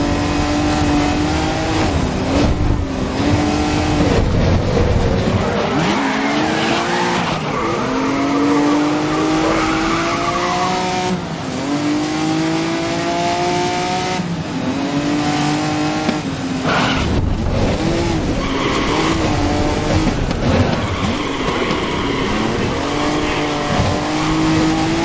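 Race cars racing in the video game GRID 2019, loud continuous engine roar with repeated gear-shift revving and tire squeals as the cars corner close together.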